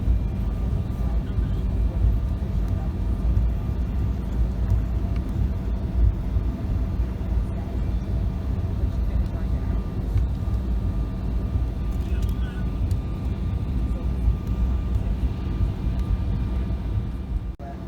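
A steady low rumbling drone fills the cabin of an airplane taxiing on a long runway, continuous and even throughout, with people talking over it.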